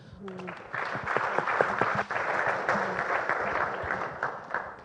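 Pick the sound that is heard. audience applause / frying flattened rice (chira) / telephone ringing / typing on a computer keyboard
audience applause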